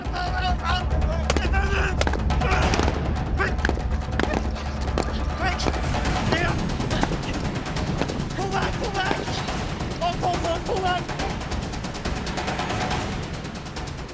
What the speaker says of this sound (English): A simulated ambush staged with live ammunition by our Australian security team.